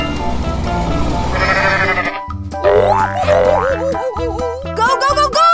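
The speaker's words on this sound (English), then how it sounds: "Goat." A goat bleats in a playful cartoon-style animal sequence. A burst of bright tones gives way to several wavering, bouncy bleats over a rhythmic musical backing, loud and close.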